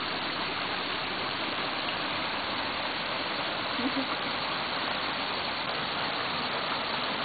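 A waterfall just behind a farm house by green jungle pours in a continuous, dense rushing hiss that stays even and loud throughout with no break.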